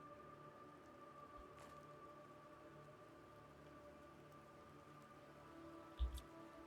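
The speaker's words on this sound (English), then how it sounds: "Quite a questionable rain effect, but it works." Rain effect in a video game, a faint steady patter of rain drops over a constant background hum, with a brief soft thump near the end.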